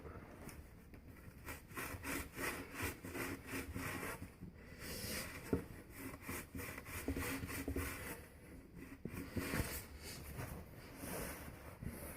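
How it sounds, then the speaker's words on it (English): A file or deburring tool scrapes a freshly cut pipe during a Zoeller sump pump replacement, making steady, close rasping strokes in a repeating rhythm for about twelve seconds, with no talk. "Let's clear off the burrs."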